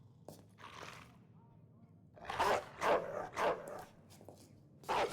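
A dog barks in the Call of Duty WWII video game, several close, loud barks in quick succession after a quieter stretch, with faint speech in the background.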